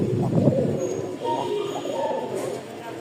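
A pair of light biscuit pigeons, large egg-and-squab breed, cooing in low soft repeated calls, close and clear, loudest at the start, with people talking around them.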